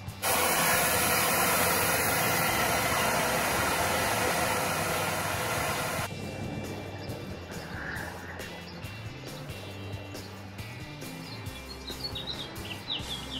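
Compressed air hissing steadily out of a tire through a JT Brooks deflator while bringing it down from 35 to 15 psi, a loud continuous hiss that cuts off abruptly partway through, leaving quieter background noise.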